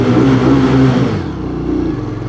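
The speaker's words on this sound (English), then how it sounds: "So this is the standard exhaust, right? Okay, and this is what it sounds like." Indian Scout motorcycle on its standard exhaust revving close by, a steady engine drone that swells and then eases back to a quieter idle, with no voices.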